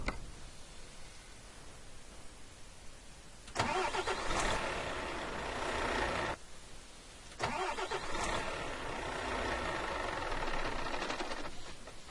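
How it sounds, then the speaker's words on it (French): A truck engine cranks and catches twice in Euro Truck Simulator 2, each time revving into a steady rough drone that cuts out before the next start, with no talking. "Regardez, on va faire la panne du moteur."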